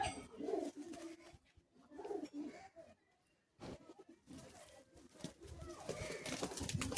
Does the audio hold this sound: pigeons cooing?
yes